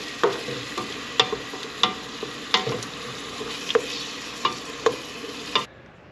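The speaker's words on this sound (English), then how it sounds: "Just cook the garlic and onions. Just get them cooking." Garlic and onions sizzle steadily in olive oil over low-plus heat, with several sharp scraping clicks of a utensil stirring the pan at irregular intervals, close and moderately loud.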